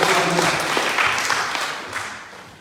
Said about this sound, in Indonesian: Ya, beri tepuk tangan yang baik.